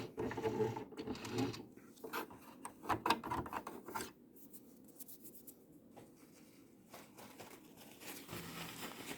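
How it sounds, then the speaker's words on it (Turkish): A sewing machine's mechanism is worked up and down by hand during cleaning and oiling, giving irregular close mechanical clicks, rattles and rubbing taps with quieter pauses between bursts. "Tekrar makineyi yukarı aşağı hareket ettirelim."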